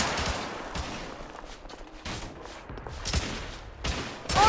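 Sustained suppressive gunfire from The Order: 1886 on PS5, with dense rifle and pistol shots crackling in overlapping bursts, loud and close, building toward a heavy blast at the end.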